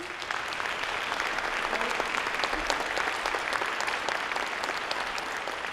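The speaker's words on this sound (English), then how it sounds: "why don't we all give a nice round of applause?" Sustained applause from a seated convocation audience honoring newly introduced chairs, steady dense clapping filling the hall for several seconds with no speech over it.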